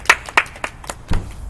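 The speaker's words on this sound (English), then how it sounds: "Let's give our flag bearers out there a round of applause." A few scattered claps for the flag bearers at a school morning assembly: a handful of distinct hand claps at uneven intervals, close by and short-lived, without voices.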